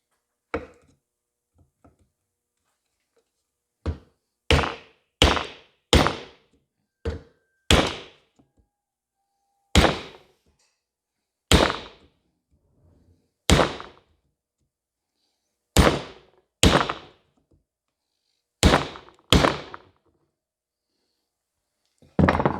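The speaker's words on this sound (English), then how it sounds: "So I'm going to give it a couple hits with a big hammer here and see if it'll start to move." A big hammer pounds a hickory drift against a vintage axe handle, about fifteen sharp, solid wooden thunks at uneven intervals, some in quick pairs, with silence between the blows.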